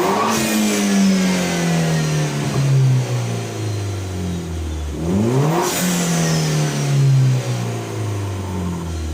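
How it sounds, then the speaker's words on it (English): A BMW 1 Series fitted with an aftermarket cold air intake revs up close, rising and falling twice in strong sweeping bursts that drone back down to idle, with no talking. "as you can hear, it really makes the car sound a lot cooler"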